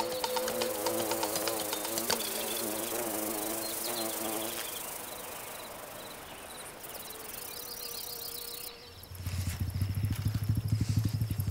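Bumblebees buzz around foxglove flowers in a garden, a steady close insect drone with shifting pitch that runs throughout and swells louder near the end.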